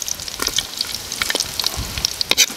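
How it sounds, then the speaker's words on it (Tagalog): Garlic sautéing in a hot pan, with light crackling sizzle and scattered sharp pops and scrapes of a utensil, fairly close and uneven over a few seconds, with no speech. "gigisa na tayo ng bawang"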